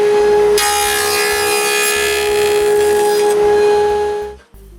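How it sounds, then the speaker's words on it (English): Clamped wooden boards are cut into box joint fingers on a jig, a loud, steady high machine whine running alone for several seconds before it cuts off abruptly. "I clamp them all together and cut the fingers using my box joint jig."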